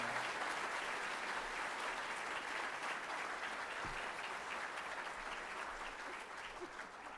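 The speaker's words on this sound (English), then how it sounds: "Please clap for Aurea Carcavazzo-Ziegler and Hannah Anderson." Continuous, fairly quiet applause from families at an eighth grade promotion night honoring two award recipients, even and sustained, easing slightly at the close.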